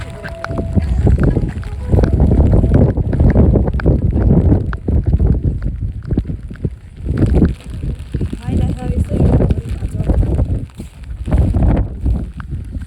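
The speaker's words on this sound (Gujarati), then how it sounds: "પવન બહુ છે." Strong wind on a rainy day buffets the microphone in heavy, uneven low roaring gusts, with people talking under and between the blasts.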